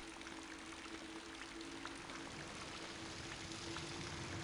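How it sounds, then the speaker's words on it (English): Water starts flowing in Clive Barker's Undying, a steady broadband pour or rush that holds level from start to finish, with a faint constant hum running underneath. "So we need to get some water flowing."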